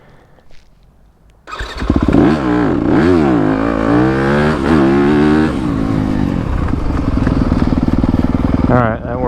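A 2021 Yamaha YZ250FX dirt bike revs hard and climbs through the gears close by, its loud engine note rising and dropping with each shift for several seconds before easing off.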